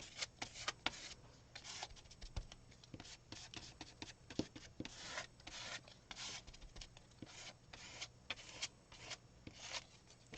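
A brush or spreading tool coating a junk-journal paper page with yellow, green and white paint, heard as faint, close, continuous rubbing and scraping strokes in an irregular rhythm, with no talk.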